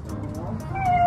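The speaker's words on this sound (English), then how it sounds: "Aw, he's meowing." A bobcat gives a single drawn-out meow that rises in pitch, heard up close against a quiet background.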